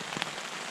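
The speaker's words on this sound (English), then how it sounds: "the rain's coming down harder than it's calmed down yet." Rain falls steadily on a tent at a backpacking camp in Table Rock State Park during a severe weather alert. The patter is a dense, even wash with a few sharper drop hits, with no voices.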